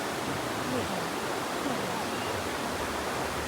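Water pours like a small waterfall at a riverside camp near Chaom in Saraburi, giving a constant dense rush with no breaks, fairly loud and alone.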